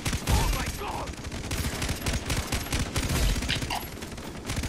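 Rapid gunfire in the video game Far Cry 3 during co-op play, dense overlapping bursts and shots firing loudly and continuously, with voices faintly mixed in underneath.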